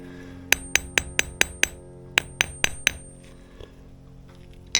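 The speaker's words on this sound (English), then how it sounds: "So what I do is I just start hammering it out like this." A hammer flattening wire on a metal block for a labradorite wire-wrap pendant: about a dozen sharp, ringing metallic strikes in two quick bursts, then a pause and one last tap, close and clear.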